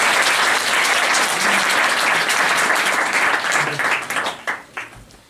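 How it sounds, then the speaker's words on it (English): Audience applause at a Model United Nations closing ceremony, a loud, dense crowd clapping that holds steady for several seconds before thinning out and fading at the end. "I think they deserve our applause."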